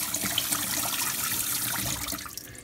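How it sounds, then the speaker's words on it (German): Water rinsing alfalfa sprouts in a bowl, a continuous splashing, gurgling wash of moderate loudness, steady throughout with no voices. "Und dann spült ihr einfach richtig schön durch"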